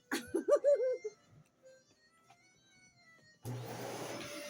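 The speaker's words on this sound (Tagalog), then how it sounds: "Vacuum ko guys" Household vacuum cleaner cleaning the floor, switching on near the end with a sudden loud steady whine and hum, after quiet moments with a baby's voice and brief babbling.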